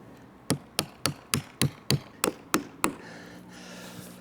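Hammer blows drive nails into a roof fascia board on a garden room build, nine sharp, evenly spaced strikes close by, followed by a quieter tail of faint handling noise.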